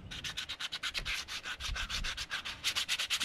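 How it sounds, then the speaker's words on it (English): Close, steady back-and-forth sanding on a wooden block cut for a boat's brace, a fast even rhythm of rasping strokes that continues throughout with no voices. "So I'll sand and paint the block."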